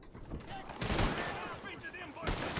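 Muffled bursts of gunfire in the Red Dead Redemption 2 video game crackle in quick succession, fairly faint and distant, blending into continuous game noise.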